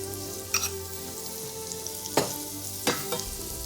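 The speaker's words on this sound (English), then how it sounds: "Hot pan, smoking, a little bit of oil." Veal neck searing in a smoking-hot pan with a little oil, a steady bright sizzle with a few sharp spatters and pops.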